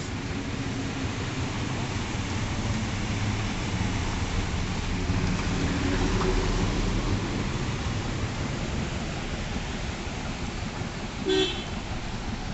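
Steady, dense rain pours outdoors in Narendra Nagar with a low thunder rumble beneath it, a continuous wash of noise filling the whole stretch, and a brief car horn toot sounding once near the end.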